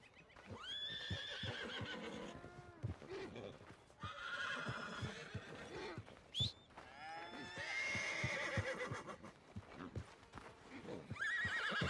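Horses in the Red Dead Redemption 2 video game whinny loudly in several long neighs, with hooves clip-clopping between and beneath them, close and prominent.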